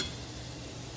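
Shrimp dropped into a hot pan for scampi sizzle in a brief, dense frying hiss, fairly close and without talk.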